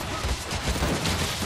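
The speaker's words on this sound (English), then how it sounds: "We've got like four arrow cannons up here." Rapid volleys of sharp firing bursts crackle continuously from several arrow cannons in Guild Wars 2, a dense, fairly loud barrage of projectiles.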